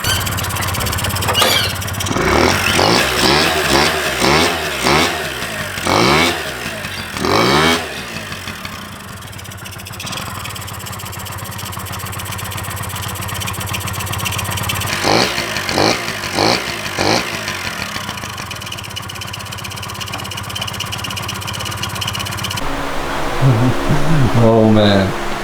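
Honda Elite scooter engine idling too low after a no-start repair, a loud close rumble that surges and sags in uneven bursts, at times pulsing, with a voice heard briefly near the end.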